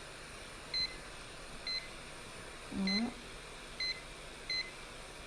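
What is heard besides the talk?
timer beeping while firing precious metal clay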